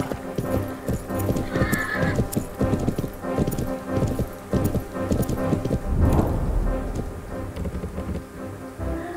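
Horse hooves clip-clop at a gallop in the horse video game Planet Horse, a steady drumming rhythm with a loud neigh partway through, all close and continuous with a low rumble underneath.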